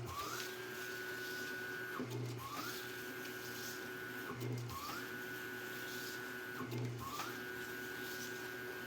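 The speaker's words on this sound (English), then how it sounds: "I'll show you our large ribbon cutter." A large ribbon cutter machine runs through repeated cycles, a steady mechanical whir with a rising tone and a brief low thunk about every two and a half seconds as it cuts imprinted sports ribbon.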